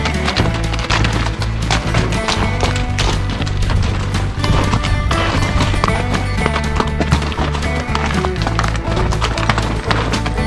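Shod pack horses clip-clop steadily over rocky ground on a mountain trail in the Sawtooth Mountains, hooves striking stone in a dense, continuous rhythm, loud and close with no voices.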